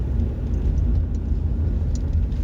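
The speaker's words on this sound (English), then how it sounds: "Wow, traffic this morning." Morning road traffic heard from inside a moving car, a steady low rumble of engine and tyres with a constant broad hiss, no distinct passes, continuous and fairly loud.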